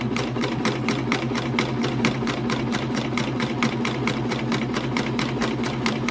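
Pfaff Admire Air 7000 serger stitching along a thick Christmas tree napkin, a steady rapid mechanical chatter of even, closely spaced stitch strokes running throughout at close range with no talk.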